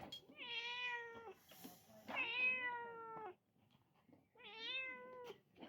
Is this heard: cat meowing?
yes